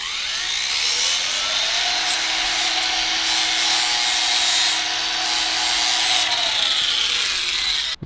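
Steel wire end ground to a sharp point on a power grinder, a steady high whining rasp with a humming motor tone underneath, close and continuous for several seconds with slight pauses in contact.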